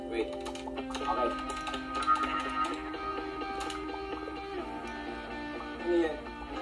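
Quick clicks of typing on a keyboard patter under background music and a talking voice, soft and fairly close.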